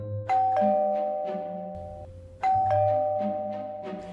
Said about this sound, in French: Dernière et troisième tentative de sonnette.